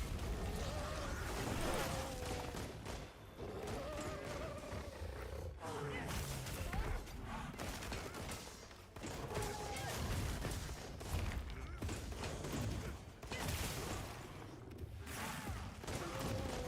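Rapid gunfire bursts in Monster Hunter Wilds, a bowgun shooting at a pod during a hunt: dense repeated shots and clattering impacts run throughout, mixed with roaring monster noise and a person talking over it.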